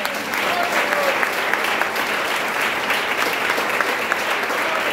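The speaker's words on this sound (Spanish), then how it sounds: "Un aplauso al Señor." A church congregation applauds during a service, producing a steady, dense wash of clapping. A few faint whistles or cheers break through as the applause holds at an even level.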